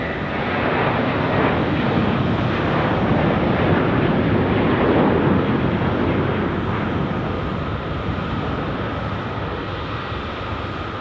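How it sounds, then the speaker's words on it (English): Southwest Airlines Boeing 737-700 departing Phoenix Sky Harbor: a loud, continuous rushing engine roar with a thick low rumble, holding steady for the whole stretch and fading only slightly at the end. "Going to El Paso on this one, 737-700. For Southwest Airlines"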